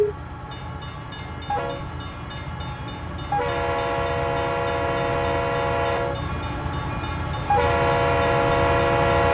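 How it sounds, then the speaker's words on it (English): A CSX reefer freight train on the A-Line in the Run-8 simulator passes with a loud, sustained multi-tone horn blown in repeated long blasts over steady rail rumble and clatter. "waiting for our train to come"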